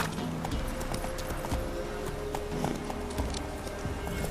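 Roach, Geralt's horse in The Witcher 3, gallops with rapid, rhythmic hoofbeats pounding close and steady under faint ambient noise, with no voices.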